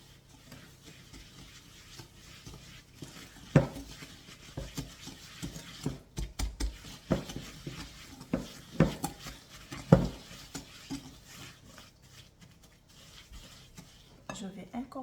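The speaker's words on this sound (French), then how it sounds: "J'ai mis le beurre, le sucre et je vais mélanger pendant 5 minutes." Butter and sugar being mixed in a bowl for a giant crunchy cookie, a soft scraping stir with several sharp clinks of the utensil against the bowl, close and moderately quiet, with no talking.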